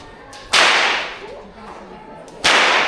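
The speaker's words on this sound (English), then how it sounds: "The other way we can do it is up and down like this." Two sharp whip cracks at a wildlife park, each a loud explosive snap followed by a decaying swish, about two seconds apart.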